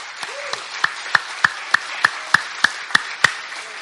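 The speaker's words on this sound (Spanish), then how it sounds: "Dele palmas al Señor, hermano." Sharp, evenly spaced claps ring out at a brisk steady rhythm, about a dozen in a row, as church worshippers clap for the Lord, close and crisp with no talking.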